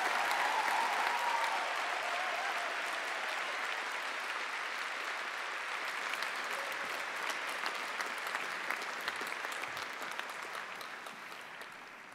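A large crowd at a university postgraduate graduation ceremony in a hall claps steadily for the graduates, a dense, sustained wash of applause that stays strong and slowly tapers toward the end.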